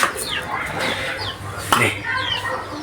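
Close, repeated clucking from a domestic hen, with a voice briefly audible alongside it.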